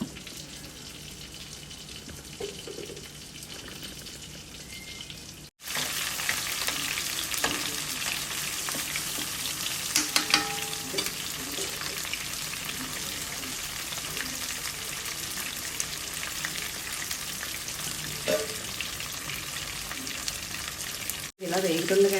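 Chicken tandoori leg pieces fry in a pan with a steady, close sizzle and crackle that holds almost throughout, interrupted by brief breaks, with occasional stirring or clinking and no speech.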